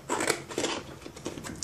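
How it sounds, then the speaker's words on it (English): Scissors snipping through paper for a personal-size Filofax divider, a few quick close cuts in a short uneven rhythm with no voices. "the first thing I'll do actually is just cut it with my scissors"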